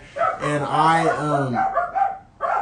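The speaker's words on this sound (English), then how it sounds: "I'm sorry if you can hear the dogs barking." Dogs bark and yelp outside, muffled and somewhat distant, during a podcast recording while a person speaks over them.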